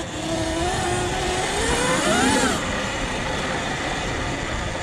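An EBMX-built electric bike at full throttle, a continuous loud motor whine rising in pitch to a peak and then easing off, with steady road and wind noise throughout.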